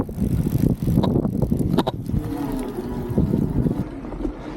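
An Ecotric Tornado full-suspension electric mountain bike rides under throttle, giving a steady low rumble of tyres and drivetrain mixed with gusty wind noise on the microphone, with no talking.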